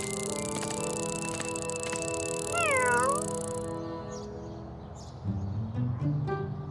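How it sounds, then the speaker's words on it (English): A cartoon kitten meows once, a bright rising-and-falling cry over a steady musical bed, followed by softer shuffling sounds. "The kitten's even smelled the milk and has come to take a look."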